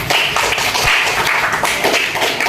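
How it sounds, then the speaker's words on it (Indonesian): A room full of people claps loudly and continuously, a dense, busy patter of many hands with no talking. "Tepuk tangan untuk si Ayu."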